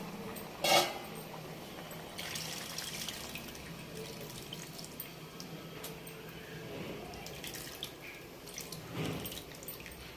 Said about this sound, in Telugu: ఇప్పుడు ఇది ఉంది కదా చింతపండు రసం, ఇది కూడా వేసుకుందాం.